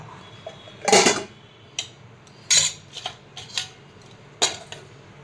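Metal dishes and utensils clatter and clink as they are handled and set down in a home kitchen, a handful of separate close clanks at uneven intervals over a quiet background.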